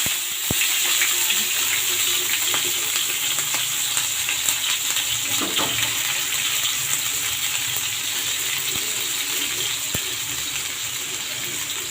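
Onions dropped into hot mustard oil fry with a steady, close hiss and crackle that runs evenly throughout, with a few sharp pops and no talking.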